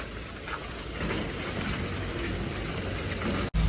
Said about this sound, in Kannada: ಮಳೆ ಹಂಗೆ ಬರ್ತಾ ಇದೆ ಏನು ಮಾಡ್ತೀರ